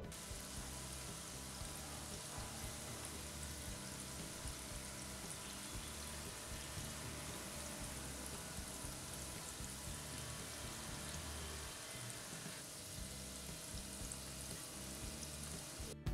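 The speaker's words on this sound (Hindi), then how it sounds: "इसी तरह से हम बाकी के गुलाब जामुन तल लेते हैं।" Balls of gulab jamun dough made from leftover roti deep-frying in hot oil, giving a steady, dense sizzle and crackle that continues without a break for the whole stretch, with no talking.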